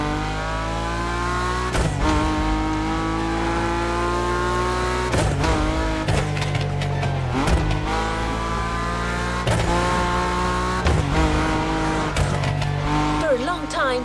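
Car drifting in The Crew Motorfest, engine droning with rising and falling revs and repeated tire squeal across the clip, loud and continuous, with a voice talking over it.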